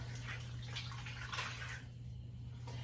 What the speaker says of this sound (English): And then we want to add 2 cups of water.